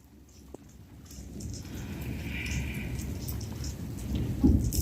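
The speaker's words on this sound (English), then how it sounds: "Thunder. Rain is coming again." Steady rain patters on surfaces while a low rumble of thunder builds and swells toward the end, growing louder over the final seconds with no talking.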